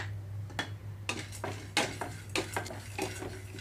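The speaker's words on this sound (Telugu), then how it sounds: "ఇందులోకి పుట్నాలు అలాగే నువ్వులు కూడా వేసి వేయించుకుంటున్నాను" Roasted gram and sesame seeds toast in a pan with a faint sizzle, broken by sharp scrapes and clinks of a spoon against metal as they are stirred, close and without talk.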